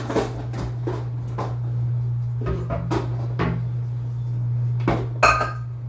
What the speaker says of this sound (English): let's get our harvesting bowl ready to harvest